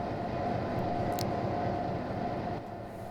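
A steady, loud diesel locomotive engine rumble from a train simulator game, with a constant droning hum, continuous throughout and easing slightly near the end.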